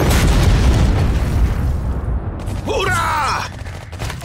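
Gunfire and explosions in the video game Iron Marines: heavy booms and crackling bursts roar loudly at the start, then ease as a voice shouts a cheer over the fading battle.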